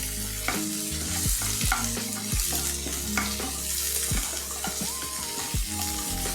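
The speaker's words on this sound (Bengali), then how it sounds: "দিয়ে এটাকে ডিমটাকে একটু ভাজা ভাজা করে দিই," Egg and meat frying in a pan before rice goes in, a steady sizzle broken by scraping and stirring clatter, close and fairly loud, no talking.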